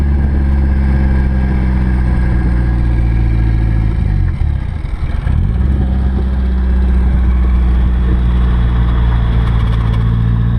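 A car fitted with a freshly installed T28 S15 turbo idles smoothly and loudly up close, a steady low engine drone with a brief dip in the middle.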